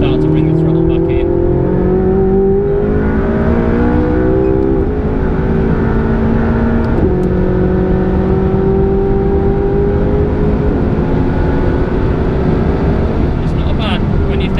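McLaren 675LT race car on slicks driving hard on a track, its engine note rising and falling through the gears with a steady loud onboard roar, and a voice talking over it.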